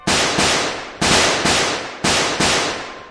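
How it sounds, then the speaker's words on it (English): Gunshots in a horror scene, five loud, sharp blasts that each ring out and decay in rapid irregular succession, close and reverberant, with no talking. "Suddenly, a gunshot rang out."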